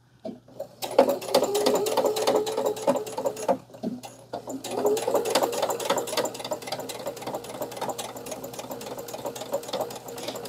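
A sewing machine stitches fabric under a weakened presser foot in close, rapid runs, with a short pause near the start and another partway through.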